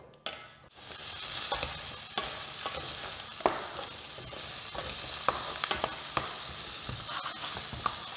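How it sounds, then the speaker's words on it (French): Leek, lemongrass cut into sticks, minced garlic and carrots sizzle steadily in a pan, a continuous hiss with occasional soft stirring clicks and scrapes, close and moderately loud, with no talking. "notre poireau, notre citronnelle coupée en bâtons, l'ail émincé, les carottes, et on vient faire rissoler"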